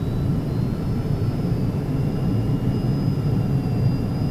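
A Carenado Falcon 50 jet in the X-Plane 11 flight simulator rumbles on takeoff, a steady low engine roar with a thin high whine running through it.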